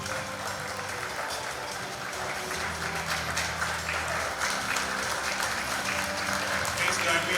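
Audience clapping at a Mumbai Climate Week event on panchayat-led climate action, a steady round of applause that swells slightly toward the end, with a voice heard faintly underneath.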